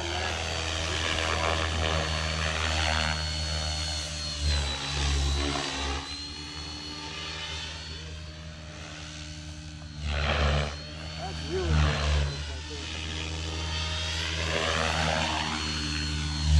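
Align T-Rex 550X RC helicopter flying outdoors, a steady buzzing rotor and motor whine that swells and fades as it rolls and passes, loud and continuous throughout.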